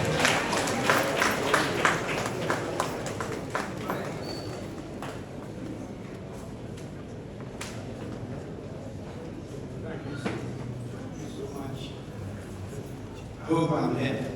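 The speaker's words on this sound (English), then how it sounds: "with a big round of applause" Audience in Ghana's Parliament applauding the Speaker of Parliament, with sharp individual claps at first settling into a sustained crowd wash, then a louder burst near the end.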